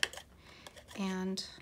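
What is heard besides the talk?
corner rounder punch rounding a paper corner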